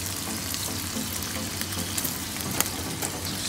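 Garlic and fresh grated pepper sizzle steadily in a pan over medium heat while carbonara is made, a continuous broadband fry with a few small clicks of stirring near the end.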